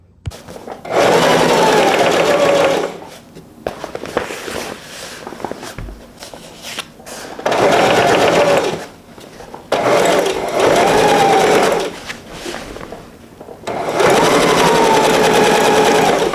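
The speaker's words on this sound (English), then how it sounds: "And now we're going to sew up all sides, leaving the little squares open." An electric sewing machine stitches vinyl for a shopping bag in several long bursts of steady whirring, stopping briefly between seams, close and loud.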